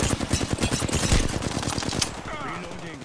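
Rapid automatic gunfire in Apex Legends, a fast stuttering burst of shots lasting about two seconds before it cuts off, leaving quieter game ambience and a faint background voice.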